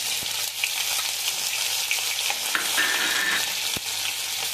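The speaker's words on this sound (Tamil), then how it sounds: "எண்ணெய் சூடு பானதும் கொஞ்சம் ஜீரகம் போட்டு நல்லா பொரிஞ்சதும்" Cumin seeds crackle and sizzle in hot oil, a constant hissing fry with small pops and a couple of sharp clinks close by.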